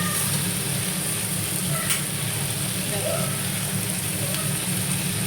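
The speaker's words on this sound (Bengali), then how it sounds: "চিকেনটা কষা বসিয়ে দিয়েছি, এটা হোক আস্তে আস্তে" Chicken kosha cooking slowly in a pan gives off a steady, dense sizzle that holds at an even level throughout, with small crackles on top and no voices.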